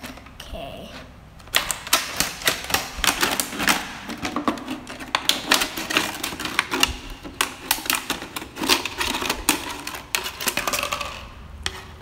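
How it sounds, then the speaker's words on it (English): A plastic bottle is cut around for a composting project, with a rapid run of sharp crackling clicks and crunches from the plastic. The sound is close and fairly loud, beginning after a quiet opening second. "first you have to cut this bottle around."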